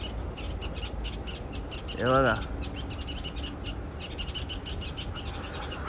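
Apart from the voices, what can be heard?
bird calling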